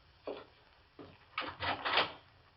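Door sound effect in a vintage radio mystery drama: a few muffled wooden knocks and clunks, then a louder creaking and scraping as the door is worked open, on a narrow old-broadcast recording.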